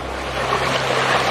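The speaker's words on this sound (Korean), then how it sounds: "물소리 들리죠?" Water in a forested valley stream rushes in a steady, broad hiss at close range, with no pauses.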